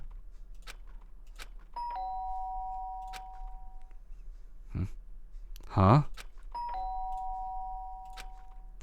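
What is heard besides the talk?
doorbell ringing in Danganronpa Trigger Happy Havoc video game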